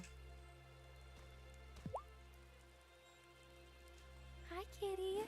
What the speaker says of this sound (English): once again, it's frickin' raining